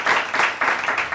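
A studio audience on a Spanish TV show claps in rhythmic waves, loud and close, with bursts of hands swelling and easing several times in quick succession.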